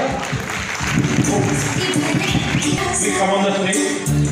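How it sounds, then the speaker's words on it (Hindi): An audience applauds at an indoor gathering, with dense crowd clapping swelling in the middle and mixed with murmuring voices and background sound. "एक बार तालियां।"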